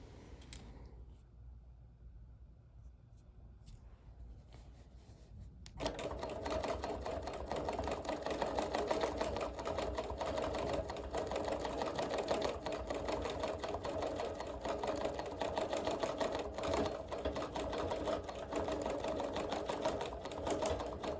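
Sewing machine quilting wool appliqué, starting after a quiet pause and then running steadily and loudly with a fast, even mechanical rattle for the rest of the stretch.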